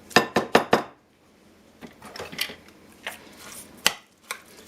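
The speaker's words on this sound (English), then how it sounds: "Let me get a bigger spoon here." Metal spoons and utensils rattling and clinking in a kitchen, a quick burst of four sharp clinks, then scattered scrapes and taps while a bigger spoon is found, close and clear with no speech.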